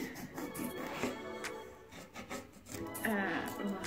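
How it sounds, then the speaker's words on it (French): Knife slicing through a fresh aloe vera leaf, a series of close, soft wet cuts and rubbing scrapes at an uneven rhythm, fairly quiet, with a voice talking in between. "Alors pour commencer on va couper notre feuille d'aloe vera."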